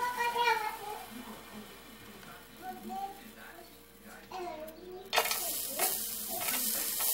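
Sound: garlic sautéing in a pan

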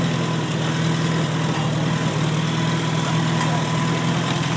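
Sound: 1964 Farmall 140 tractor engine running in first gear

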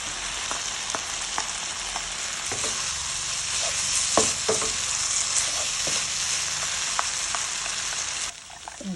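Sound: stir-frying pink beetroot noodles with pork and tofu

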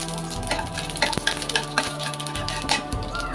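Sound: dried red chillies and spices frying in oil

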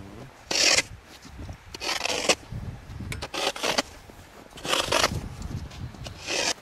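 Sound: hand saw cutting ice hole

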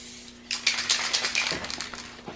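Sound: spray paint can spraying a Mazda Miata

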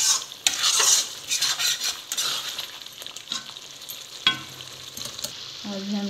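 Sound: chicken curry cooking on medium flame

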